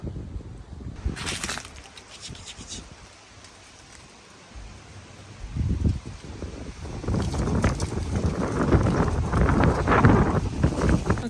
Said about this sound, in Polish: dzisiaj wieje strasznie